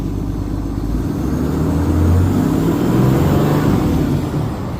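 A cold diesel engine, the owner's vehicle with a fuel heater, runs loud and steady in a low, rumbling drone that swells as it revs up and then eases back toward a slow idle.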